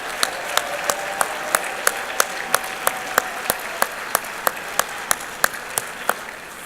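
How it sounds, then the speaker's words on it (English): A conference audience applauds, with one loud, evenly spaced clap standing out at a steady beat over a softer wash of crowd clapping. "Give yourselves a big round of applause."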